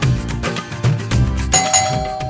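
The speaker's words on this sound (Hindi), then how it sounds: "घंटियां बजा के सिर दर्द कर दिए मेरी।" A doorbell rings in a home, a loud ding-dong chime with rapid repeated bell tones layered over busy background music.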